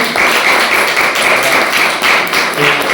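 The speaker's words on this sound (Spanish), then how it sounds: "Un aplauso." An audience at a medical lecture on phrenic nerve paralysis gives loud, dense, steady applause throughout the three seconds.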